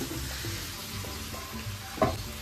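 Vegetable bhaji sizzles and fries steadily in a hot pan, a close, continuous crackle with a brief louder spatter near the end.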